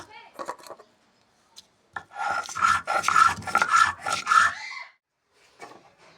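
Dry chillies and black cumin are ground by hand on a grinding stone, giving a run of rough, rhythmic scraping strokes that swell loud for a couple of seconds between quieter pauses and a few isolated knocks.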